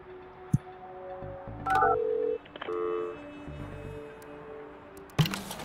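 In the building-management game Project Highrise, an office telephone plays short electronic dial tones, a few pitched beeps in quick succession. Soft interface clicks and brief ambient game sounds surround the tones.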